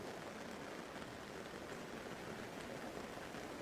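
Soft, even rainfall keeps up a constant hiss of countless small drops, unchanging and calm, with nobody talking.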